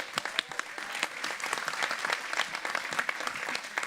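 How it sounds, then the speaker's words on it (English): An audience at a union-hosted gubernatorial candidate forum breaks into sustained applause, a dense, even patter of many hands with a few louder nearby claps, steady throughout with no voices. "everybody give a round of applause to Dave."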